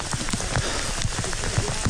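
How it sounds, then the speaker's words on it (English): Steady rain pours down during a cold bike ride, a dense, continuous hiss with scattered drops and spatters hitting close by, loud and unbroken, no voices. "I don't know if it's picking up the rain"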